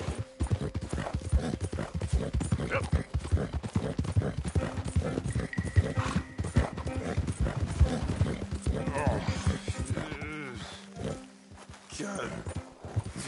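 Horse hooves clip-clop steadily on the streets of Saint-Denis in Red Dead Redemption 2, a rhythmic close walking gait under ambient city noise, with a brief whinny and people talking over it.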